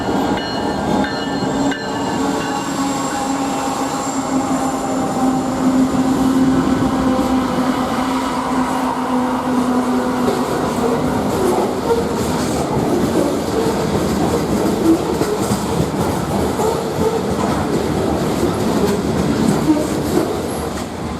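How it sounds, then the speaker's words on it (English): A long southbound manifest freight train, CP 470 running from St. Paul, Minnesota, with a GP20 leading, rolls steadily past close by, wheels clicking over rail joints and faint squeals sounding throughout. "Here we see CP 470 southbound manifest from St. Paul, Minnesota to Bentonville, Illinois"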